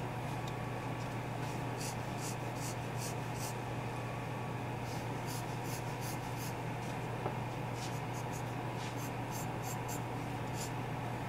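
A pencil drawing on paper during a linear still-life demonstration, with repeated short scratchy strokes in quick bursts over a constant low hum, close and fairly quiet.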